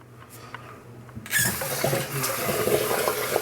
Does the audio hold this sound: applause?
no